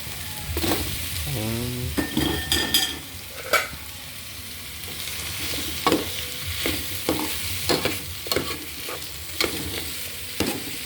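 Eel pieces drop into a pot for ginataang igat and fry with a steady sizzle, broken up by the scrape and clink of a utensil stirring against the metal, while a voice briefly chirps.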